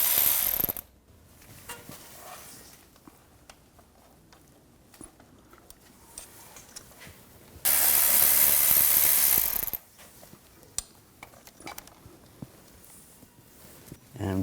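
A ratchet with a T30 socket works the four bolts off a 2010-2014 Volkswagen GTI throttle body, with close, quiet clicking through most of it, one loud burst of noise in the middle, and a voice talking.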